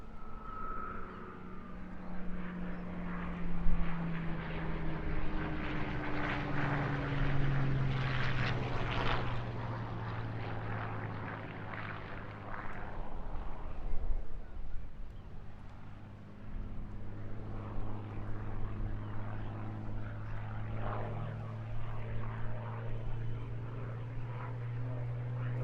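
A propeller-driven airplane at the Eastbourne International Airshow drones past in the distance, its engine note swelling and shifting in pitch as it sweeps by over about twenty-five seconds, steady and fairly faint.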